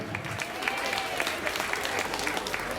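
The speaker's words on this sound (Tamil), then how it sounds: "எங்கே இந்த பிள்ளைகளுக்கு உங்கள் கரகோஷம்?" An audience at a Thai Pongal festival in Pendle Hill applauds children performers, with steady, dense clapping that holds evenly throughout.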